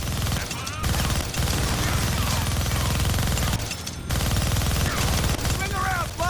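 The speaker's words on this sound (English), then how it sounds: "Gonna need both hands to shoot that minigun." Sustained, loud rapid-fire minigun bursts from the Deadpool video game roar almost continuously, with brief dips, mixed with game sounds and voices.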